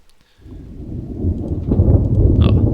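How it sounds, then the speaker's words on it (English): Thunder rolls in Garry's Mod and builds from near silence into a deep, swelling rumble with rain hissing beneath it, growing louder and heavier toward the end. "oh, there's the thunder."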